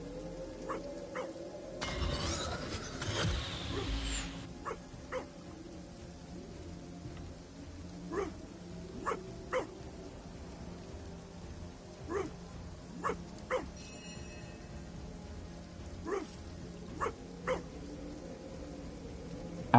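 A dog in the video game Divinity: Original Sin gives short, separate barks and yips at irregular intervals over a quiet background. A brief burst of noise comes early on, and no one talks.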